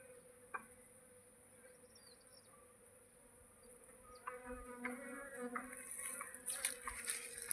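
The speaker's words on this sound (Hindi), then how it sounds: "ये देखो वो मधुमक्खी आवाज़ दे रही है इनको" A honeybee swarm hums quietly with a faint, steady buzz during a swarm capture, the drone thickening and growing louder in the second half with individual bees whirring close by.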